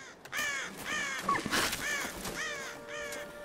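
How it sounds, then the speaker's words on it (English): Repeated harsh crow caws from a bird in the Tomb Raider video game, several calls in a row, fairly close and clear over a faint ambient background. "Bird."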